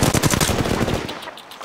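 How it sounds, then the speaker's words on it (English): Rapid automatic gunfire in Apex Legends rattles loudly in a fast, steady string of shots, then cuts off and leaves a quieter tail. "They spotted me. I'm taking shots."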